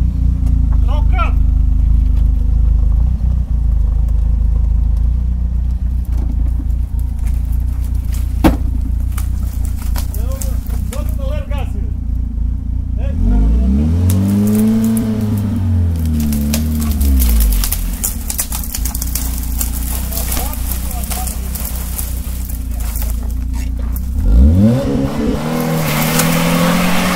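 A Fiat Punto engine revving hard as the car tows wood, a loud, close motor rising and falling in pitch through several pulls, with outdoor background and someone speaking in places.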